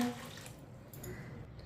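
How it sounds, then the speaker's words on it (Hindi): A glass of water poured into a pot of washed mixed lentils, a short steady splashing gush up close, carrying on for under two seconds. "अब इसमें 3 गिलास पानी डालेंगे।"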